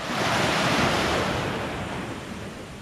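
Ocean surf rolls onto a beach at Lincolnville, Maine, a broad steady wash of breaking water mixed with wind buffeting the microphone, slowly easing over a few seconds with no talking.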